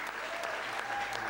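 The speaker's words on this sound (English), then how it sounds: "you can hear the cheering still going on" A crowd celebrating Galway's All-Ireland hurling final win against Waterford sends up dense, steady clapping and cheering that fills the air continuously, broad and distant-sounding, with faint voices mixed in.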